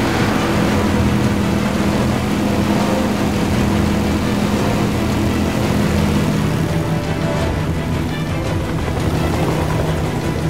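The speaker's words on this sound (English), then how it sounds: "There's the helicopter." Helicopter in the video game Beyond Two Souls, a loud steady engine and rotor drone with a constant low hum that holds throughout without pause.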